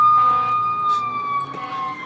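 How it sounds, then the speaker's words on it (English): Emergency vehicle sirens wail outside, a loud, sustained tonal cry holding steady with slight wavering for the whole stretch, heard alone without any voices. "There's sirens, there's train horns going off."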